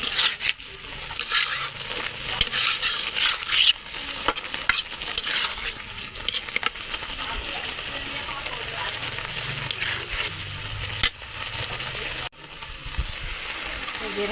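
Boiled mango and sugar are stirred in a cooking pot with repeated scraping and clinking strokes and a soft sizzle underneath, continuing for about fourteen seconds.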